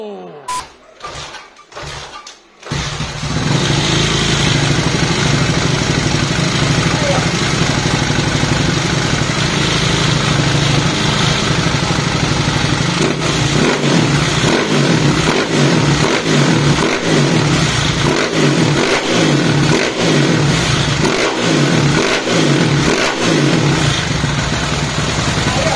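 A CG99 motorcycle with a 240cc engine fires up after a few sharp clicks and then roars loudly and continuously, its revs rising and falling in repeated throttle blips, close and dominant throughout.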